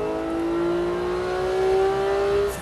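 Porsche GT3 race car on a track at full throttle, its engine note climbing steadily in pitch as it accelerates hard, loud and close throughout with no other sounds.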